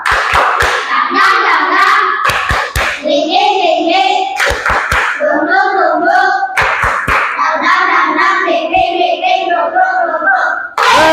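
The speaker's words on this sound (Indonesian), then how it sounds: "Tepuk" Classroom group doing a rhythmic 'tepuk semangat' ice-breaker clap: sharp, loud unison hand claps in patterned bursts alternating with a group of voices chanting in rhythm, close and energetic.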